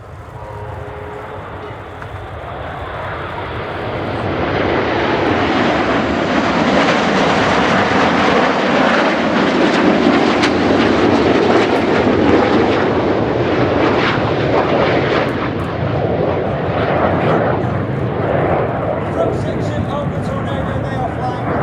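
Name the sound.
Red Arrows jet formation flying display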